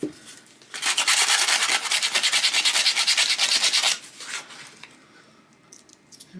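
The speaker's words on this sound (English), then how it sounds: "You have to make sure this is really dry before you sand it." Hand sanding of dry milk-painted wood, a close, steady back-and-forth rasping scrub lasting a few seconds before easing into lighter, quieter strokes.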